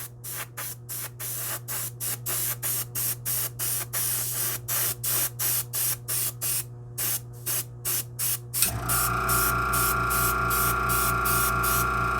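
Airbrush spraying hobby paint in short, regular bursts of close hissing with brief gaps between them, then changing to a denser rapid pulsing spray toward the end.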